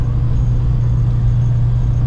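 A 1983 Volkswagen GTI MK1 with a 90hp fuel-injected four-cylinder engine, driven at high altitude, hums in a steady low drone from inside the car with no talk.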